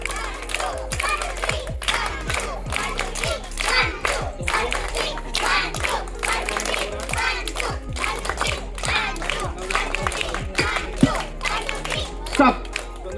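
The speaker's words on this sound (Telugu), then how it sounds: "మనం చిన్నారి కోసం గట్టి క్లాప్స్ కొట్టాలి" A crowd at a child's first birthday party claps together in a steady patterned rhythm, many hands striking in repeated groups of beats, close and lively, with adults and children talking over it.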